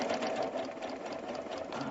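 A sewing machine stitches stretch fabric in a rapid, steady whirring run, close and continuous, with no talking.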